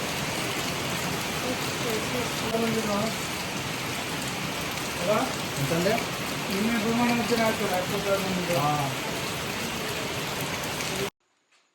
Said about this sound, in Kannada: ಮಳೆ ಅಂದ್ರೆ ಮಳೆ ಜೋರ್ ಮಳೆ